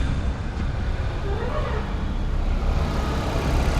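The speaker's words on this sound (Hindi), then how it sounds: "मैं आपको आवाज़ सुनाता हूँ कि गाड़ी चालू है या बंद है।" A Mahindra XUV700 engine idles after a remote start, a steady low rumble that holds unbroken and fairly loud, with some broadband background noise.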